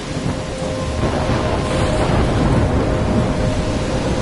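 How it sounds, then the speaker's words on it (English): A video game thunderstorm on PS4 roars continuously, with heavy rain and a low rumble of thunder filling the scene loudly and evenly, no voices over it. "I'm trapped in a storm?"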